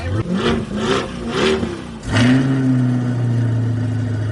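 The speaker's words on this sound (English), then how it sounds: "Sounds like, their standard throaty V8 Corvette" A throaty V8 engine of a 2020 Corvette C8 revs in several rising bursts, then settles into a steady, loud rumble close by.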